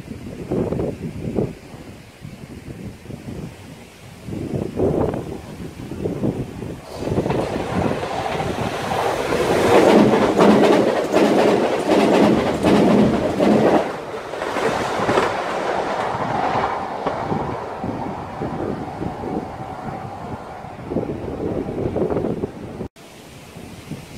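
Regular EMU and DMU passenger trains rolling past Worting Bridge: a loud, sustained roar of wheels and rail clatter swelling and holding for most of the stretch, with rhythmic clicking over the joints and no talk.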